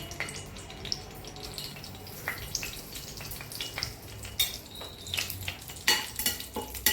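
Bay leaf, cloves and other whole spices fry in hot oil in a pan for biryani, giving a steady soft sizzle broken by scattered clinks and scrapes of a spoon against the pan.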